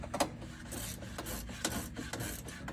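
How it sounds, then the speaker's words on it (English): Bolts are tightened by hand on a Diabolical Link plastic floor stage in a 6G two-door Bronco, heard as a series of close rasping, ratcheting scrapes in short uneven bursts. "gonna tighten these up the rest of the way"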